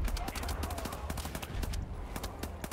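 Rapid bursts of gunfire from the first-person shooter Wolfenstein: The New Order, a dense peppering of overlapping shots with broadband cracks and low rumble throughout, loud and continuous.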